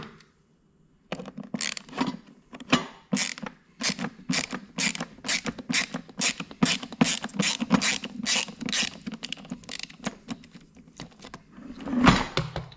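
Phillips head screw being unscrewed from inside the cap of a Cuckoo rice maker, a long run of rapid ratcheting clicks from a screwdriver, close and crisp, ending with a louder clunk.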